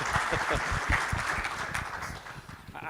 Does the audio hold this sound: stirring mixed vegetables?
no